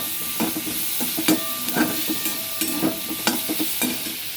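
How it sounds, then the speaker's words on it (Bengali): Ivy gourd (kundri) fries in oil in a covered pan, a steady soft sizzle broken by regular scraping stirs, about one every half second, close and alone. "ভাজতে হবে ভালো করে, ঢেকে ঢেকে ভাজবো, তাতে তেল কম লাগবে।"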